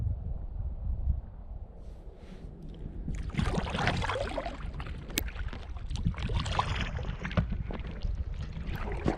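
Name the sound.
paddling a canoe on a lake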